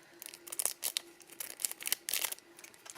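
Scissors snipping through the plastic-and-card packaging of a 2023 advent calendar, a run of short crisp cuts and crinkles with small pauses between them, close and fairly quiet.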